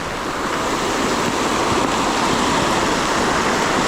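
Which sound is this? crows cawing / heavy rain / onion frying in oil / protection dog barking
heavy rain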